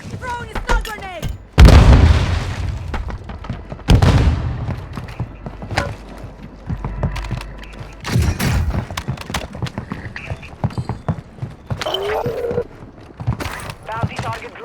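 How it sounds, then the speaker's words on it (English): A stun grenade thrown and going off in Call of Duty Warzone 2.0 Resurgence on Ashika Island, heard as sharp booming bursts among scattered game gunfire, clicks and a speaking voice. "Throwing a stun grenade!"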